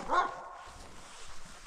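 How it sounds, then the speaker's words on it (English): A livestock guardian dog at a farm rescue lets out one sharp bark close by, followed by quieter background noise. "Livestock guardian dog."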